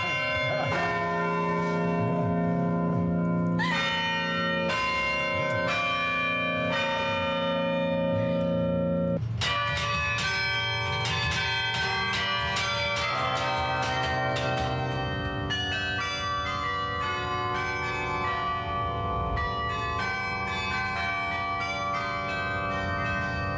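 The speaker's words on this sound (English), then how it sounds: "when we hear the tolling of the hour, that'll be our large bell" A large clock bell tolls the hour with repeated deep, ringing strikes whose long overlapping resonance lingers between blows, loud and sustained with no talking.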